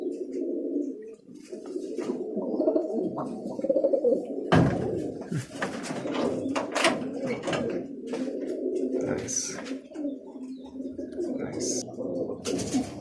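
Roller pigeons cooing close by in soft, repeated throaty phrases, with scattered chirps, wingbeats and handling noises, and faint talk in the background.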